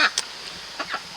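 Chickens on a small homestead poultry yard clucking in a few short, soft bursts spread over about a second, with faint background noise between calls.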